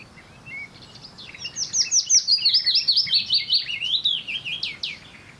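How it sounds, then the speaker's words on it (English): A willow warbler sings a clear descending cascade of sweet, high whistled notes, one phrase lasting several seconds, moderately close against a quiet outdoor background with no talking. "we'll just enjoy the willow warbler for a little time"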